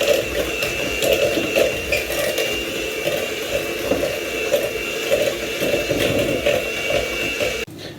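A whisk or mixer works steadily through a batter of eggs, sugar and corn flour for Spanish torrijas, a continuous close whirring churn that holds for several seconds before cutting off abruptly near the end.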